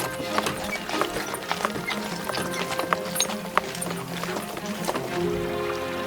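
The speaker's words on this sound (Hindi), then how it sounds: "दूत ने घोड़े पर तेजी से सवारी की और जल्दी राजा के पास पहुंच गया" A horse gallops with rapid clip-clop hooves in a fairy-tale scene of a messenger riding fast to the king, loud and rhythmic, with a brief whinny and faint voices beneath.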